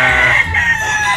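A rooster on a gamefowl farm lets out a single loud, close crow that lasts through the short moment. No voices can be heard.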